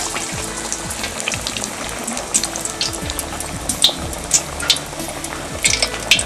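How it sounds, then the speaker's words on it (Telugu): Pressed vada-style dough patties frying in hot oil, giving a steady close bubbling hiss with scattered sharper crackles and pops throughout, no talking. "ఒత్తుకొని నూనెలో వేయించుకోవాలి."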